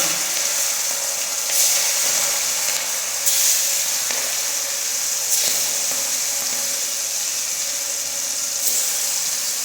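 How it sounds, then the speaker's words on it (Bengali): Fish sizzling in hot oil in a wok, a steady bright hiss with a few louder crackling bursts from splattering, close and continuous with no talk over it. "কড়াইয়ের তেলে দিয়ে দেবো মাছ।"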